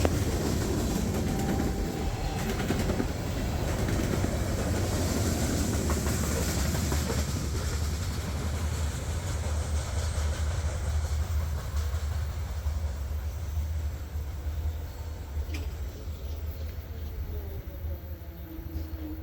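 D&H freight train 11R, a manifest with no trash cars or racks, rolls past with a steady rumble and clatter of wagons, loud and continuous throughout, fading slightly toward the end.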